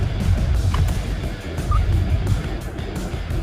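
A 2003–2014 Ford Expedition on a short test drive around the block after a brake pad swap, its steady low road and engine rumble loud and close, with faint chirps over it.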